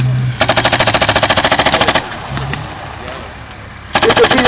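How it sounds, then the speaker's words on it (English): Heavy machine-gun fire from a Challenger tank in a British Army live firing exercise: two long, rapid, evenly spaced bursts, loud and close, separated by a quieter gap with distant rumble. "the Challenger laying heavy fire down on the enemy."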